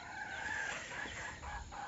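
Several roosters crow on a foggy early morning near a tent, their drawn-out calls overlapping at a moderate distance against a steady background hiss.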